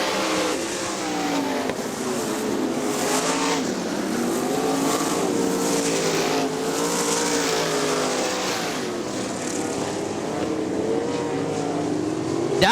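410 sprint cars race around the dirt oval at Crystal Motor Speedway in Michigan, their loud engines roaring steadily with rising and falling swells as the pack passes, a race announcer speaking over them.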